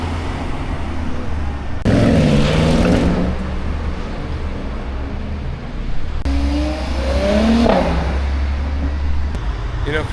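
A Maybach 62S passing on a street in Monaco, its engine swelling in two loud surges that rise and fade amid background traffic noise, with no talk over it.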